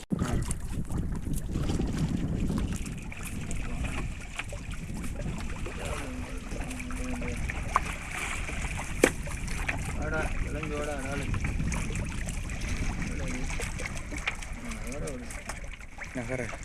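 A boat heading out on open water to catch prawns makes a steady engine drone mixed with wind buffeting the microphone, while voices talk over it at times.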